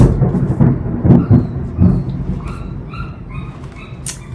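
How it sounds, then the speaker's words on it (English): A frightened dog squeaks and whimpers in its crate, with a series of short high whines and yips in the background after some thumping and shuffling. "my dog is squeaking in the background"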